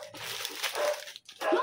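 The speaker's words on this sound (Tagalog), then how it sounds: "Tahulan na yung aso, guys." A dog barks somewhere in a house while people talk over it, the barking mixed into a brief, busy stretch of voices and household noise.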